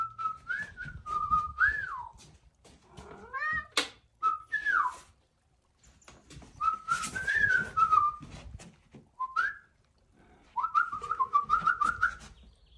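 A person whistles a series of short rising and falling tunes to a dog, bright and close, with pauses between phrases and faint background rustle.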